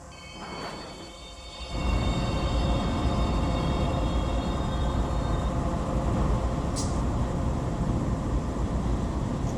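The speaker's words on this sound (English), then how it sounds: "I think I hear another train coming by in the distance." A container train in the Run 8 Train Simulator video game rumbles past with a loud, steady roar and rattling wheels, building quickly after a quiet start and staying heavy throughout.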